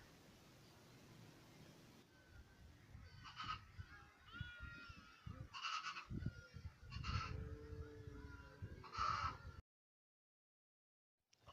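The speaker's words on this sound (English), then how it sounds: "Goats, cows, sheep and even camels cry out loud." Several loud livestock cries — goats, cows, sheep and camels — ring out in bursts at dusk over a steady rural background in drought-stricken Wajir, with brief pauses between calls before the sound cuts to silence.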